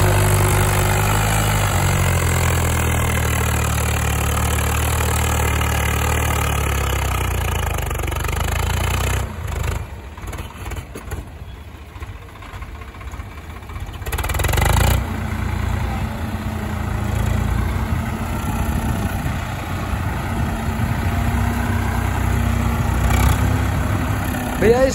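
A Swraj 744 XT tractor idles close by with a steady, low diesel rumble and a faint high whine. The engine note dips briefly partway through and then settles back to a constant chug.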